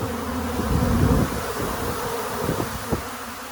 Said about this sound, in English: man, bees just everywhere